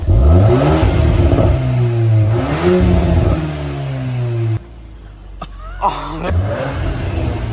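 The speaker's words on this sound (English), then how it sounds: "You give us a rev, bro." A 700 bhp Audi RS4 with a Milltek exhaust revs hard and close: loud repeated rising and falling blips, a sudden cut-off, then more throttle bursts with exhaust crackle and brief voices nearby.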